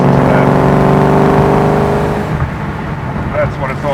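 A powerful Aston Martin 6.3-litre V8 engine roars loudly up close, its pitch sweeping as it revs, then fades into a lower rumble with faint voices behind.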